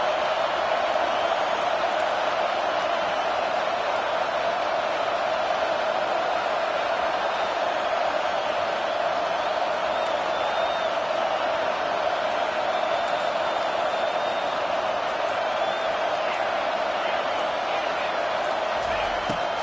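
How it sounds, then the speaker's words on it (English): A frenzied stadium crowd at a football game roars steadily and loudly throughout, a dense unbroken wall of cheering that stays near and full with no pauses. "this crowd is losing it, frenzied after the back-to-back sacks"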